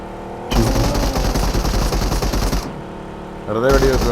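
Rapid automatic gunfire from the battle royale game BGMI on the Erangel map plays as a dense, loud, continuous burst lasting about two seconds. It is followed by a pause and another burst, with game audio and a voice mixed in.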